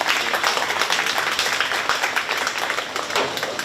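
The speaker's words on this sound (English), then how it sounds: "Let's give them a nice round of applause." Audience at a 4H county fair cattle show, feeder steer division, breaks into steady, dense applause, many hands clapping together in a continuous wash with no pauses.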